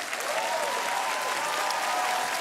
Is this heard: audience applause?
yes